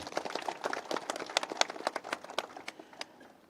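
Scattered clapping from a small audience at a political rally in Barguna, Bangladesh, a few seconds of uneven, fairly distant claps with no voices.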